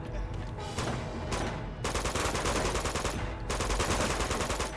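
Rapid, continuous gunfire from weapons in Uncharted 2, loud bursts of automatic shots with brief gaps, filling the whole stretch.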